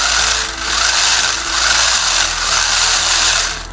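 Motor of an SG-1603 1/16 drift rally RC car with gyro, held off the ground, whines loudly and surges in repeated waves as the throttle is pressed to different depths.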